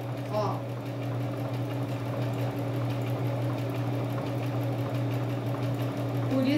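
Sewing machine stitching fabric for a placemat or dish towel, a steady close mechanical hum and rapid needle rhythm running continuously while someone talks.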